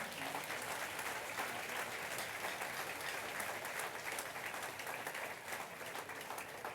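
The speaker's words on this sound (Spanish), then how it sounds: "Dele un aplauso fuerte a Jesús." A large church congregation claps steadily and loudly, a dense, even wash of applause that holds without a break.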